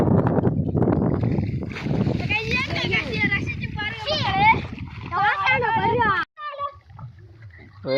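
Children splashing and playing in water while bathing, bursts of splashing mixed with lively kids' voices and an adult calling out encouragement over them.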